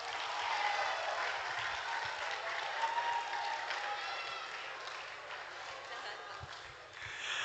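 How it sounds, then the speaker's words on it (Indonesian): Audience applause at a school open house for a senior high school, a sustained wash of clapping from a large crowd that stays steady for about seven seconds before easing off slightly at the end. "kita beri tepuk tangan untuk Pak Eko Cia."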